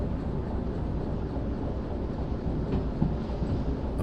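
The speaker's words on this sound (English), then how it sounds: "you can hear the wheels grinding as we hit 45" Train wheels grind and rumble on the rails of a freight train in the game Derail Valley at about 45, a steady, dense rolling roar that carries on without a break.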